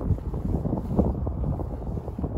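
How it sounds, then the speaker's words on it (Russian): Strong wind at a lake buffets the microphone with a constant low roar and rumble, loud and close throughout. "Говорю, что тут ветер."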